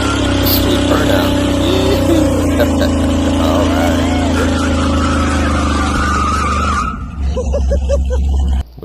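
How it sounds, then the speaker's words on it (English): A 1976 Chevy K20 truck with straight-piped exhaust into Flowmaster mufflers roars through a burnout, its engine droning loudly alongside squealing, skidding tires before cutting off abruptly; a voice is audible near the end. "Sweet burnout."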